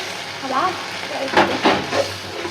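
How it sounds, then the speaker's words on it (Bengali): Dried loitta fish shutki frying with garlic and onion in a pan, a steady close sizzle with a few sharper hissing bursts as the pieces are stirred, while a voice talks over it. "সব রসুন আর পেঁয়াজ সুন্দর করে নিয়ে ভাজা ভাজা ধরে নিয়ে গেছে এই যে শুটকি গরম পানি দিয়ে ধুয়ে রাখছিলাম দিয়ে দিলাম শুটকিটা সুন্দর করে কষাইয়া"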